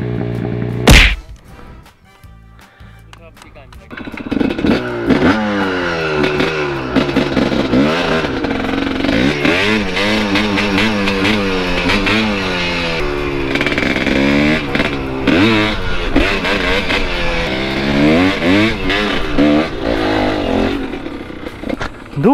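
A Thumpstar TSN 250S motorcycle engine, a sharp knock at the start, then a loud, close single-cylinder drone rising and falling through repeated revs and gear changes for most of the stretch.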